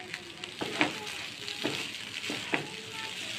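Rice fries in hot oil with spices for tahari, a steady sizzling hiss broken by a few sharp scrapes and clinks of a spoon stirring the pot, close by.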